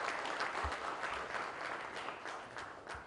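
An audience at a charity event applauds in a continuous, fairly loud wash of clapping that lasts the whole stretch, with a few sharper individual claps poking through.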